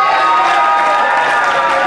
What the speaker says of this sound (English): That's right, standing ovation.